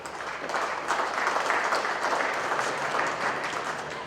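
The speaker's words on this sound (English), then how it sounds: "let's give those people a nice round of applause" Audience at a cattle show applauds the event staff, a steady wash of clapping from many hands that holds evenly for the whole stretch with no voices.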